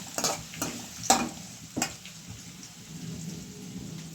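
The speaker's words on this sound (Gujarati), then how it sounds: "થોડી વાર હલાવશું" Sev bhaji frying in a pan, stirred with a few distinct scraping knocks over a soft, steady sizzle, with no voices.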